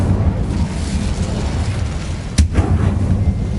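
A fire spell goes off in the game Hogwarts Legacy, a single sharp whooshing burst with a short tail that rises briefly above steady ambient game noise.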